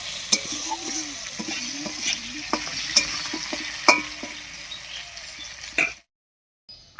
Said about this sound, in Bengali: এই অবস্থায় আলুটাকে একটু ভাজা ভাজা করে নেব।